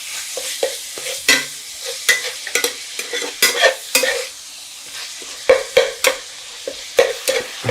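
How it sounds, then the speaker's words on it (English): Ground beef frying in a pan while being stirred, a steady sizzle broken by repeated sharp scraping and clattering strokes of the utensil, close and fairly loud, with no talk. "we're going to stir our beef"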